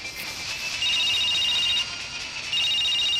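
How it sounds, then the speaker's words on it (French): A mobile phone ringtone plays loudly and steadily, a bright electronic melody repeating in two pulses with no voices. "C'est ton portable ou c'est le mien?"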